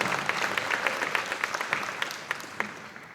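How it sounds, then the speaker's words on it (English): A school assembly audience gives teachers a warm round of applause, a dense crowd clapping with scattered sharper claps standing out, gradually fading toward the end. "So I also want to take the time and give our teachers a round of applause for everything they've done"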